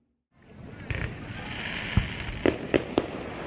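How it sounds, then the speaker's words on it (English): Fireworks at a 4th of July night show burst in a series of sharp distant pops and cracks, with several quick bangs clustered near the end over steady outdoor background noise. "Look at all the fireworks going off."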